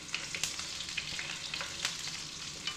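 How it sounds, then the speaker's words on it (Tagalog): Potato pieces fry in hot oil in a pan, giving a steady crackling sizzle broken by occasional stirring scrapes and louder pops, close up, with no talking. "Fry ko muna yung potato."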